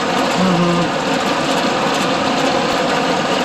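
Repaired blower running after a fix, a loud steady mechanical drone with a fast even rumble, close and continuous with no talking.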